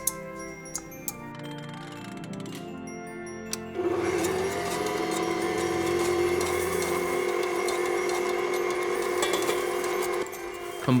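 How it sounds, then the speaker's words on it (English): An electric food mixer whirs steadily as it combines egg and sugar for eggnog, starting after a few seconds of quiet clinks and running loud and continuous to the end. "Combine the egg and the sugar in your food mixer."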